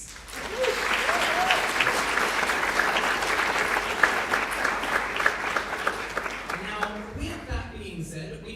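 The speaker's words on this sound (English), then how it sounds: "Give yourselves a round of applause." An audience at a university student awards night applauds in a sustained, even wash of clapping that tapers off near the end, where a voice begins to speak.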